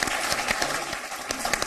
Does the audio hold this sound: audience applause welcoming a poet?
yes